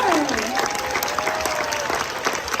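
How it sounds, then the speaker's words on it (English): Audience applause at a sea lion show at Hershey Park, a lively crowd clapping throughout while a presenter's voice and a whistle-like tone rise over it. "even the sound of your applause is a great reinforcer for our animals"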